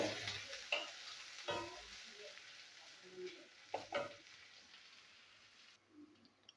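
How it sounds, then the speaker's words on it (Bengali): Chopped onions frying in a pan for rohu fish curry give a faint, low sizzle, broken by intermittent stirring clicks and scrapes that fade toward the end. "পেঁয়াজ ভাজা হয়ে গেছে"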